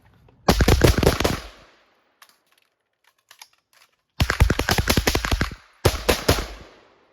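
Rifle fire during shooting drills with .22 and 5.56 rifles, loud rapid volleys of shots in three bursts separated by a quiet pause with faint metallic handling clicks.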